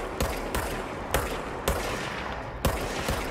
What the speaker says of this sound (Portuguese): Ô, louco, tá me atirando?